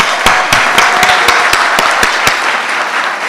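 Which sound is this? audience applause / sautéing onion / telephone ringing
audience applause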